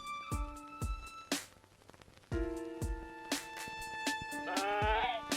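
Bleating from a sheep in the Cat Detective Albert Wilde game comes through as several wavering cries spread across the stretch. Sharp percussive taps and clicks are mixed in between them.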